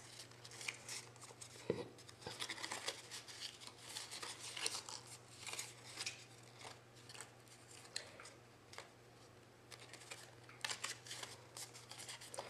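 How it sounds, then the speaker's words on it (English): Cardstock being folded along scored lines to form a gift box lid, with soft crisp creasing, rustling and scraping sounds coming in irregular bursts, close and quiet, with no talking. "Now this is the lid, so fold on the scored lines like you did with the base."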